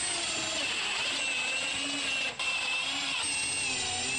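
A power driver runs steadily, sinking 1.5 inch trim head screws into half-inch plywood for a DIY kitchen island, a continuous close whine with one momentary break partway through.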